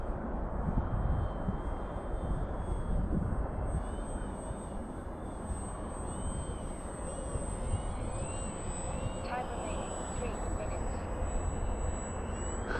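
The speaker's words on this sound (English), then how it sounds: "I do enjoy just doing those low flybys." A Ranger 1220mm RC plane fitted with large pontoons makes a low flyby on a windy day, its steady engine drone carrying throughout under heavy wind noise.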